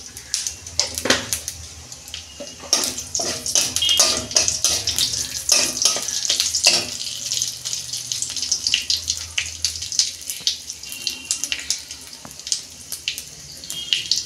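Dried red chili and five-spice seeds hit hot oil for a tempering, giving close, loud crackling with sharp pops and spits over a steady hiss. No one talks.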